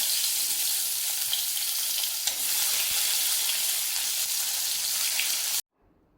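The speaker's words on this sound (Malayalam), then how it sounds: "എണ്ണ തിളച്ചു എണ്ണയിലിട്ട് വാരി എണ്ണയിലേക്ക് നമുക്കിനി പാവയ്ക്ക" Bitter gourd pieces frying in hot oil for a spicy, salted kondattam, a steady loud bubbling sizzle with faint stirring clicks that runs unbroken for over five seconds and then stops abruptly.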